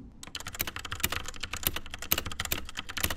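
Rapid clicky typing on a cheap mechanical keyboard, close up, a continuous stream of sharp keystrokes with no voices.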